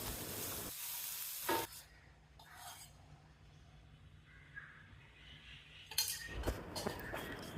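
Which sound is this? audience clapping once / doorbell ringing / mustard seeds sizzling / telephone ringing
mustard seeds sizzling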